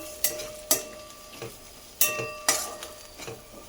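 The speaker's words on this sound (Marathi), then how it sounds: "आता हे मसाले आपण तेलामध्ये 1 सेकंड भाजून घेऊया." Spices roasting briefly in hot oil for tondli sabzi: a faint sizzle under sharp, spaced clinks and scrapes of a spoon against the pan, roughly five distinct knocks.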